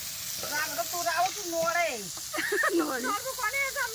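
Lata fish sizzling in hot oil with garlic, a steady hiss under lively chatter and birdlike voices outdoors at a cooking feast.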